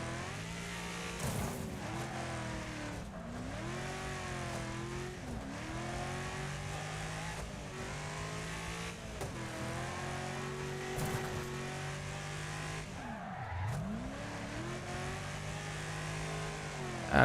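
Race cars in a video game roar through repeated revs and gear shifts, with rising and falling engine pitch and brief tyre squeals. Passes sound close and continuous, with no talk over them.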